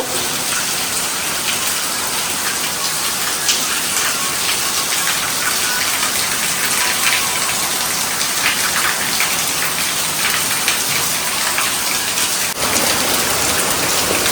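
Steady heavy rain pours down without a break, a dense hiss of drops pattering on surfaces close by, with no voices.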